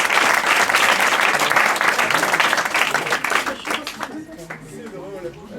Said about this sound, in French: venir avec moi sur scène sous un tonnerre applaudissement pour l'encourager